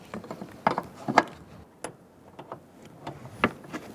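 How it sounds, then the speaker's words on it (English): A wrench cracks loose a brake line fitting on the master cylinder of a 2012-2017 Hyundai Accent, giving a few sharp metallic clicks and scrapes at close range, spaced irregularly over low background noise. "Crack it loose. You might need a line wrench if it's not coming undone."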